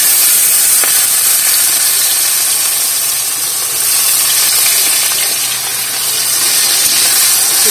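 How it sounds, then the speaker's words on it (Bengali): Chopped onion hits hot oil already seasoned with dried chili and cumin, giving a loud, steady, hissing sizzle that fills the whole stretch with only slight swells, with no voices. "আমি এই গরম তেলের মধ্যে শুকনো লঙ্কা, জিরে ফোড়ন দিলাম, কুচনো পেঁয়াজটা ছেড়ে দিচ্ছি।"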